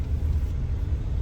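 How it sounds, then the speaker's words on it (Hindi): A car rumbles low and steady in congested city traffic, as if driving off. The sound is a continuous mid-level drone with no distinct pass-by. "लग रहा है गाड़ी चली निकल गए"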